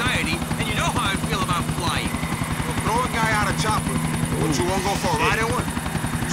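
Helicopter in the video game GTA The Ballad of Gay Tony: a steady, fast rotor chop and engine drone that runs loud and unbroken throughout, with voices talking over it.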